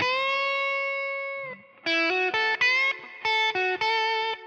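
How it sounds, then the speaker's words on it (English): A sustained electric guitar note with effects, then a series of picked notes that bend upward a full step in pitch, clear and alone, in a blues lick. "We're going to bend it up a full step so it sounds like"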